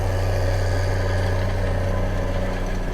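A tractor fitted with dual wheels works a field with a steady low engine drone and a constant mechanical hum, close and loud throughout with no talk.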